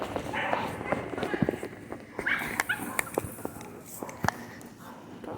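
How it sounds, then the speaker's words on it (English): A big dog barks in short bursts close by, mixed with outdoor footsteps and a person talking over it. "this big dog came out"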